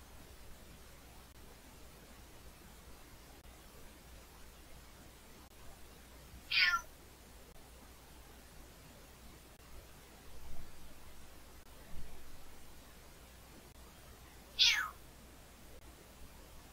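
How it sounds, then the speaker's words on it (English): A cat meows twice, short rising cries about eight seconds apart, heard faintly over a quiet room hiss with a few soft rustles between them. "Kitty cat."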